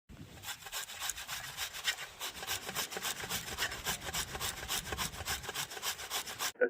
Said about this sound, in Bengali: এই ছোট ফুটো দিয়ে এইভাবে আমি পুরোটাই গ্রেট করে নেবো